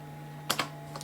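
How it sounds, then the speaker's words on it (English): A computer keyboard on a DOS-era PC takes a few quick key presses, two close clicks followed by another pair moments later, soft and close against a steady electrical hum. "I hit the tab key."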